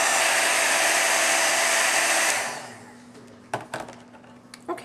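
A heat tool heat-sets a craft greeting on a snowman tag: a loud, steady blowing whoosh for about two seconds, then it cuts off, leaving a few soft clicks and handling taps close by.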